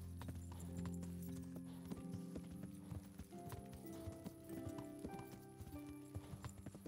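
Horse hooves clip-clop steadily in the medieval game Kingdom Come: Deliverance, the rhythmic footfalls of a horse named Pebbles sounding close and clear over soft background music and ambience.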